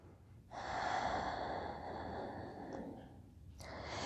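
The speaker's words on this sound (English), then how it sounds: "Take another breath." A deep, drawn-out breath taken during a yoga session, a long breathy inhale-exhale heard close and alone, fading briefly before another breath begins.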